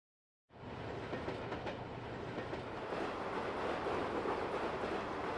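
A model railway train rolls through a night diorama in the A-Train 9 video game, its wheels clicking and rumbling steadily after starting abruptly from silence and holding a constant close, even level.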